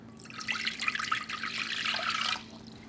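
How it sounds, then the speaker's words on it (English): Water pours into a cooking pot for quinoa, a close, bright, splashy trickle that runs steadily for about two seconds before stopping, with no voices over it. "Now to a pot, we'll add 1 3/4 cup of water."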